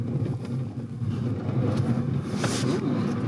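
An electric Smart car slides sideways on a snowy Colorado road, giving a steady low rumble of tires and motion with a brief hiss partway through, close and continuous, with no voices.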